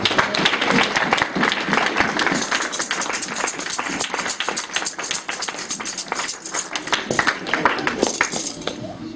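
A church congregation claps and cheers in acclaim of God, dense continuous applause with sharp hand claps filling the room, voices mixed in throughout.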